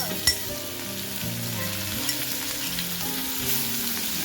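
Steady, close sizzling of garlic, ginger and onion frying in hot oil, a continuous crackling hiss with faint music underneath.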